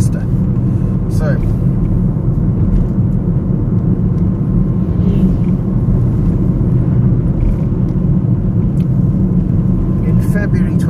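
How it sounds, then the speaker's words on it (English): Steady, loud low rumble of a car driving along the A56 road near Helsby and Frodsham, road and engine noise continuous throughout with only a few faint clicks on top. "Driving through here deliberately to get it on video because you could take the motorway instead"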